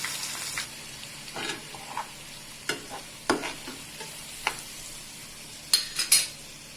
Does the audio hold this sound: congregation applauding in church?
no